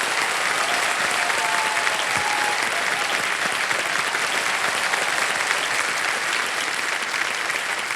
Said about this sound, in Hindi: भाई जोरदार तालियां बज जाए इनके लिए।